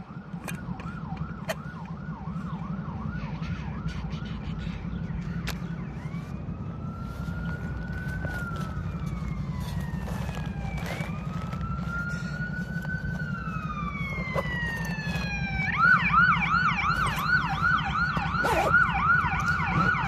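An ambulance siren sweeps and wails loudly along a street in Little Italy, Winnipeg, its rising and falling tones shifting as it approaches and passes over a steady low traffic rumble, with no talking.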